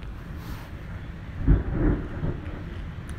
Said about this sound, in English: That was huge. Lightning.